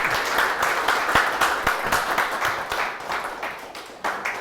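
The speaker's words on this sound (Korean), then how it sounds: "우리 뜨거운 박수로 한번 맞아 주시면 감사하겠습니다" Audience applause welcomes a lecture speaker at a political talk event, a steady mass of rapid handclaps from a crowd, fairly close and sustained throughout.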